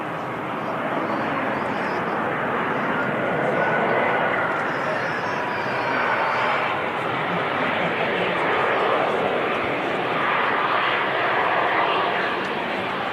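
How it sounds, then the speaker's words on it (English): At Manchester Airport an EasyJet Airbus A320 jet sends out a broad, sustained engine rumble that swells gently and holds for many seconds, with a voice talking over it. "Here's an EasyJet A320"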